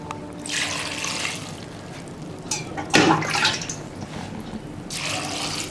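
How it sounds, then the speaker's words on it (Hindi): Water is poured into a large pot of soaking dried kair berries and sangri beans, a close splashing gush that swells in uneven bursts, strongest midway, over a faint room hum. "अब इसमें पानी डाल देंगे।"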